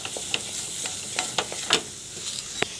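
A rasmalai modak mixture is sautéed in a pan, with soft sizzling and intermittent scraping taps of a spatula against the pan, close and fairly quiet.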